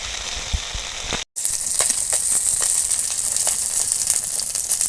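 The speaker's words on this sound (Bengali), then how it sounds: "আবার একটু তেল দিয়ে দিচ্ছি তেল থাকলে ভাজাটা ভালো হবে" Lotte (Bombay duck) fish fries in a pan of oil with a loud, close, continuous hissing sizzle, broken by a brief silence early on and then crackling steadily again.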